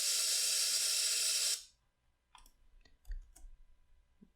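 A burst of blue noise generated in Wolfram Mathematica hisses brightly for about a second and a half, tilted toward the highs, then cuts off abruptly into near silence broken by a few faint clicks.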